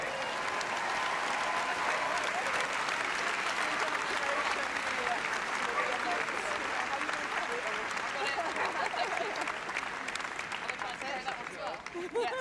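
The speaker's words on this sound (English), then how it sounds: "Please keep the applause going, folks" An arena audience at the Crufts 2024 Young Kennel Club Agility Dog of the Year final gives sustained, dense applause for the overall winner, with crowd noise and some talk beneath the steady clapping.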